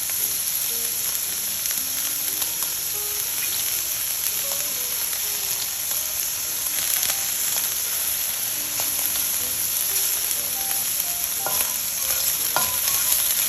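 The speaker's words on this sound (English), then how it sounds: "Okay, give it a good stir here." Shrimp stir-fried in a hot wok for Singapore mei fun, a steady close sizzle with scraping stirs and occasional crackling pops throughout, with no one speaking.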